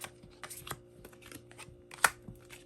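Tarot cards are drawn and handled in a quiet room, making soft, sparse papery flicks and slides, with one sharper snap near the end.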